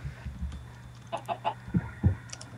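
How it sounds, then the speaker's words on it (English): Chickens in Minecraft clucking in a short run of distinct, close cackles and clucks, several in quick succession against a quiet game background. "Come on, chicken, follow me."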